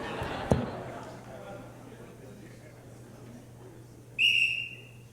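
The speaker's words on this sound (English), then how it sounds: "I'm going to set the mic down before I blow the whistle this time." One shrill whistle blast on a stage during a live music performance, loud and sustained for about a second after a quiet stretch with a sharp thump earlier.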